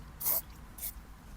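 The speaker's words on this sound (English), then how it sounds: "Get your microfiber towel and spray at a safe distance" Interior cleaner is sprayed onto a microfiber towel inside a car in two short, hissing bursts, the first longer and louder, the second brief and softer, close by in a quiet cabin.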